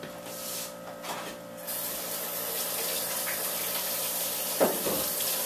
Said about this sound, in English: we're in the kitchen and we want to wash our hands